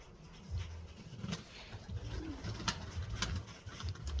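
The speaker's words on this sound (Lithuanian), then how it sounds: "vakare vėl balandiniai" Pigeons give low, repeated coos, fairly quiet and close, in a soft rhythmic series with no speech.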